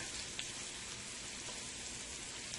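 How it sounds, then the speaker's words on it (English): A steady, even sizzle of chicken liver frying in a hot pan, with faint pops and crackles throughout and no voices. "And that is frying up nicely there"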